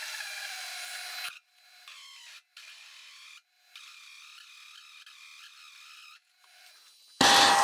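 Harsh, rasping chatter rings from a cutting tool boring the axle support hole for a Cub Cadet mini-dozer on a non-rigid machining setup, coming in several sustained bursts separated by short silences, with a louder noise at the very end.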